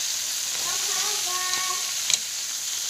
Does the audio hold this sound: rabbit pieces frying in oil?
yes